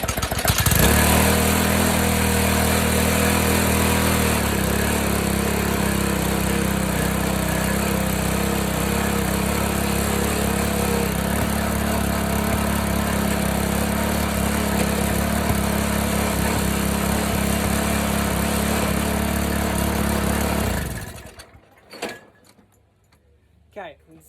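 A 4-stroke push-mower engine fitted to a ride-on mower frame revs loudly and steadily for about 20 seconds with the clutch not engaging, then cuts off abruptly, leaving a few faint knocks.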